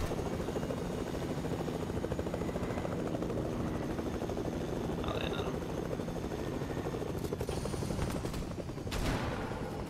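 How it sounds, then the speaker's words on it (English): A helicopter in the Fortnite video game, played on Nintendo Switch, gives a continuous close rotor thrum throughout, with scattered distant gunshots near the end. "I'm gonna just grab the chopper"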